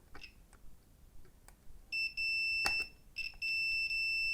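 Multimeter continuity tester beeping while probing pins on high-altitude balloon project electronics: a few faint clicks, then several sustained electronic beep tones in short bursts, close and fairly quiet.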